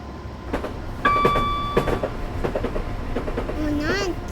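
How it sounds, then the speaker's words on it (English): A train approaching in Train Simulator 2015: rumbling rail noise with clicks and a steady horn-like tone, and a sweeping whistle near the end, under background talk. "here comes the train"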